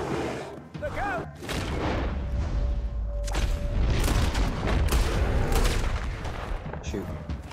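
Heavy booming gunfire in the western video game Red Dead Redemption 2, repeated loud blasts and rumbling shots over several seconds, with voices shouting in between.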